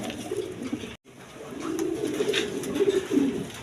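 Kaldom pigeons coo softly in low, rolling calls, several overlapping bursts close by after a brief silent gap, with faint background noise.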